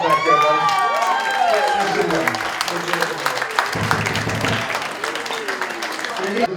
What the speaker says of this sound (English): I want to place a round of applause.